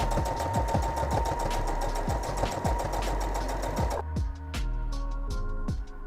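A sewing machine top-stitches a line close to the edge of remnant fabric for an e-reader cover, a fast even mechanical whirring chatter that stops briefly, then restarts in slower bursts.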